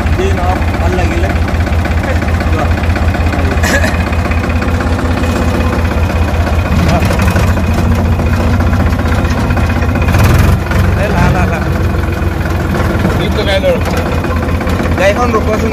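A tractor engine runs steadily throughout, a loud low idling rumble with vibration, while people talk over it.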